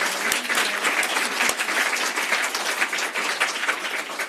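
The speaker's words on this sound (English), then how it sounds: "I think we should give a huge round of applause for our wonderful panel" An audience gives a panel discussion on European solidarity a long, dense round of applause, steady and loud for over four seconds with no talking.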